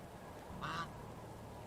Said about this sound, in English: It's really hard having a conversation around geese